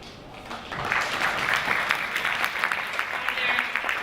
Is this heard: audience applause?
yes